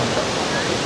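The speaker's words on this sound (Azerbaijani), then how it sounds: "burada nə qədər şəlalə, doğruda çox şəlalə var" A waterfall in the hills of Sapa, Vietnam gives a dense, constant roar of rushing water, loud and unbroken for under a second.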